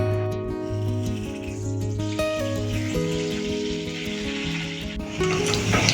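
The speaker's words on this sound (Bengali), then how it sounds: "এটাতে না আলুগুলো একটু আগে ভেজে নেব" Potatoes fry in white oil with a spoonful of ghee, a loud, continuous close sizzle with a dense crackle over a steady hum, and no voices.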